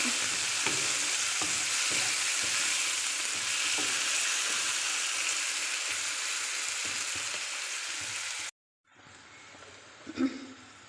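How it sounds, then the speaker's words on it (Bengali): Spices and onions sizzle steadily in a hot pan while being stirred and mixed, with small scrapes through the frying, then a sudden cut to near silence and one brief clatter. "মশলাগুলো সুন্দর করে নেড়ে চেড়ে মিশিয়ে নেব"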